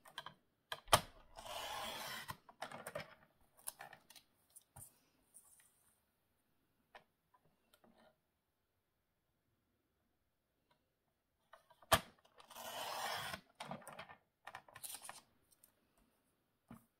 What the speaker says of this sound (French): je vais essayer de couper un petit peu autour